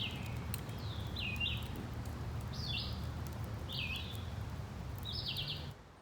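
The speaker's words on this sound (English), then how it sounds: "I hear the birds tweeting." Birds tweeting outdoors beside a creek, a few short bright chirps repeating at roughly one-second intervals over a steady bed of flowing water.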